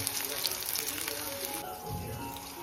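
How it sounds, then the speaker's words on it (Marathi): Chopped onion frying in oil in a pan, a soft continuous sizzle heard fairly faintly with a voice talking over part of it. "कांदा मस्त तेलामध्ये फ्राय करून घ्यायचा आपल्याला, मस्त गोल्डन ब्राऊन करून घ्यायचं"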